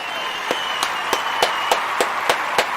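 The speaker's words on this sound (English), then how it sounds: "Clap it up for them. Clap it up." Rhythmic group clapping for children, about eight evenly spaced claps roughly every third of a second over a background of crowd noise.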